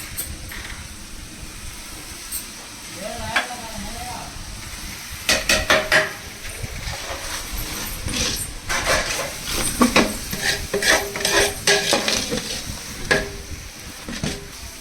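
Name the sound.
spices frying and being stirred in a pan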